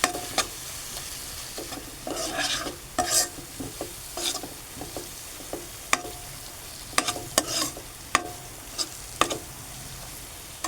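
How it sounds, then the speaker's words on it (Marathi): Water hits a hot pan of sprouted horse gram vegetable curry, which sizzles and fries steadily while a spoon stirs and scrapes with irregular sharp clinks against the pan, heard up close. "आपण आता त्याच्यामध्ये थोडंसं पाणी टाकूया दोन चार चमचे आणि ग्रेव्ही टाईप करू जरा"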